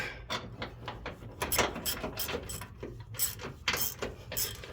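A ratchet clicks in rapid, uneven runs of sharp mechanical ticks while bolts are tightened during an air bag spring install on a 2013 Ford F150, heard up close and fairly quiet.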